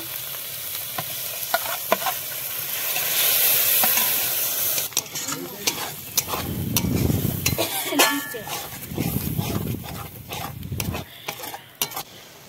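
Pastes of dried chilli, coriander and cumin with a splash of water go into a hot pan for chicken, loud sizzling and frying under steady stirring with a spatula scraping the pan, clinks of utensils throughout.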